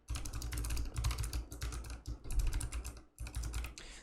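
A prompt being typed on a computer keyboard, quick close clusters of key clicks in bursts with brief pauses, with no talking.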